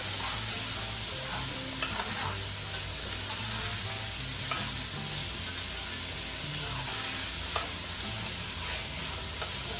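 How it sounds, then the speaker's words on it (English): Food in a pot for a big Sunday dinner is stirred over steady, continuous sizzling, with soft scraping strokes repeating throughout at close range. "we are also going to give that a stir as well"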